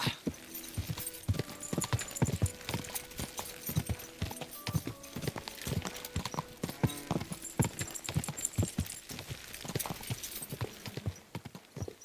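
Horse hooves clop steadily on a hard surface in Kingdom Come: Deliverance II, with a brisk and fairly even walking rhythm. The clops stay crisp and close throughout, over a quiet bed of ambient sound.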